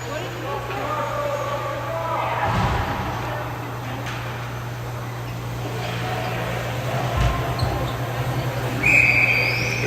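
Referee's whistle at a U18AA ice hockey game between Edmonton Ice and Calgary Fire White: a short, shrill blast near the end, heard over continuous commentary and rink ambience.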